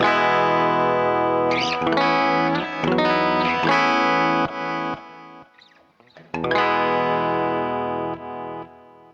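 Distorted electric guitar through a TC Electronic Flashback 2 X4 delay pedal plays a few chords and notes, then the sound keeps repeating and fading after the playing stops, an echoing delay tail.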